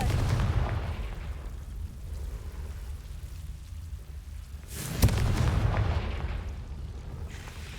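A Confringo blasting spell exploding in the game Hogwarts Legacy, with a low rumbling blast at the start that fades, then a sharp crack and a second booming explosion rolling out into a lingering rumble.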